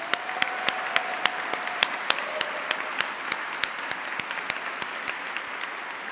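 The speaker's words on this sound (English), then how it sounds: "Let's give another round of applause to all of our speakers and readers." An audience at a baccalaureate service applauds the speakers and readers, a steady wash of clapping with sharper individual claps standing out, filling the room with no voices.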